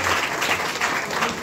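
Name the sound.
audience clapping to welcome a guest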